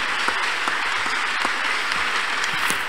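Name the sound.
congregation clapping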